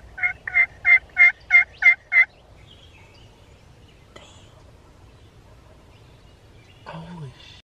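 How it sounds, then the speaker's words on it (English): Wild turkeys gobbling during a turkey hunt: six loud, rapid gobbles close together at the start, then quiet outdoor background, with a faint low voice and another brief bird call near the end. "there's two birds gobbling"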